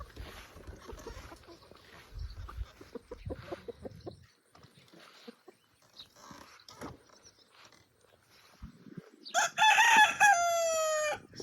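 Backyard chickens fed cauliflower cluck softly and intermittently close by, then a rooster crows loudly near the end.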